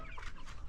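Chickens cluck in a poultry house of a farm, with a steady murmur of soft overlapping calls and no clear single voice standing out.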